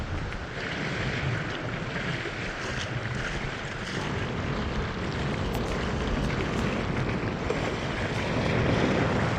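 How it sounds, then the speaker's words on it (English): Waves splashing against a lake shore on an island walk at Lake Loramie State Park, a continuous rough wash of water mixed with wind buffeting the microphone, steady and close, growing slightly louder toward the end. "Those waves really picked up."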